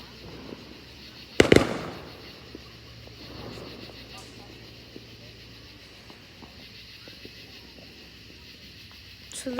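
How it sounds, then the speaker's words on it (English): Neighbors' fireworks go off outdoors with one loud sharp bang early on, followed by fainter distant pops and light wind noise while people talk quietly. "And then they're lighting off fireworks to our left."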